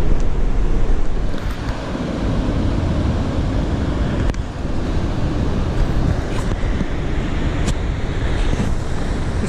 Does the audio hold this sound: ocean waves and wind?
yes